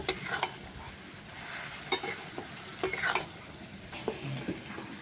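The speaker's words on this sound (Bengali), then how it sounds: "গুড়টা দিয়ে কিন্তু এগুলো নিয়ে ভালোভাবে এরমভাবে নেড়ে নেব সব ফুলগুলোর মধ্যে এরকমভাবে মিশিয়ে নেব" Village-style homemade kul (jujube) pickle being stirred and mixed with sugarcane jaggery, close-up, with irregular scraping and sticky stirring strokes over a soft sizzling background.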